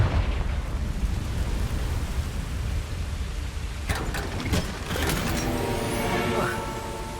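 Fiery Confringo spell blast in Hogwarts Legacy, a sudden burst of crackling, rumbling impacts over steady game ambience, with a voice calling the spell.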